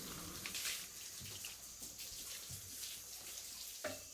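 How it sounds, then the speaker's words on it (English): Water runs steadily from a tap over a freshly processed chicken as it is rinsed inside and out, a continuous close splashing hiss with a brief stronger gush near the end. "just checking to make sure that the water coming out of the bird is clear"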